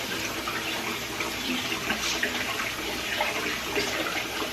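Cold tap water runs steadily into a pot of rice being rinsed and stirred by hand for Chinese takeout-style cooking, a continuous close splashing hiss with no speech.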